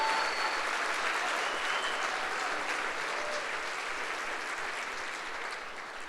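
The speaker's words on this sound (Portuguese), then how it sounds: "Dá um aplauso a Jesus" A church congregation applauds at a Sunday service, a dense, steady wash of many hands clapping that fills the room and fades slightly toward the end, with no voices standing out.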